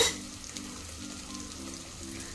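Marinated mutton tipped into fried onions in a hot pan, with a soft, steady sizzle and faint stirring scrapes close by, no voices.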